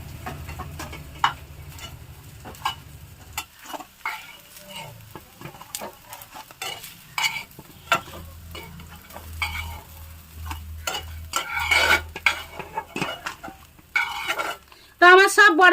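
Pieces of spinach omelette fry in a pan, with crisp intermittent sizzling, spatula scrapes and stirring clinks against the metal, plus occasional clattering of utensils near the end.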